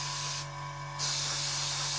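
An airbrush sprays paint onto the strut work of a Trumpeter 1/32 Swordfish scale model, a close, steady airy hiss that dips briefly, then returns stronger and brighter as the air pressure is turned up.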